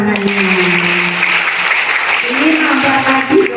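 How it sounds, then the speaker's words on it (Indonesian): Audience applause at a community PKK women's group gathering in Cipinang sub-district, Jakarta, a steady broadband clapping wash lasting the whole moment, with a speaker's voice heard over it. "Tepuk tangannya."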